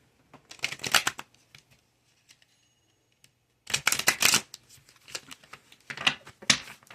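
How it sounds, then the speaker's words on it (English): Tarot cards being shuffled in close bursts, crisp riffling flutters in two main rounds separated by a quiet pause, followed by shorter riffles and taps. "They told me to shuffle 3 times. I'm going to shuffle 3 times."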